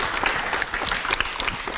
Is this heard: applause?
yes